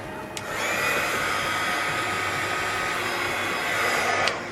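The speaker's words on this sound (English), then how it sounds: "let's heat gun it real quick." A heat gun blows over freshly poured resin coasters, a loud, steady hair-dryer-like rush of air that runs continuously for several seconds with a click at start and end.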